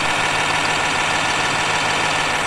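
A New Holland 5620 CRDI tractor with a Turkish-built engine idles steadily close by, a continuous broadband engine drone with a low hum and no speech.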